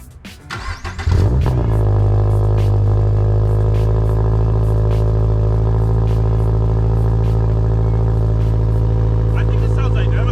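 A car with an HKS Hi-Power racing exhaust cranks and fires up, then settles into a loud, deep, steady idle rumble heard close by, with faint ticking over the drone.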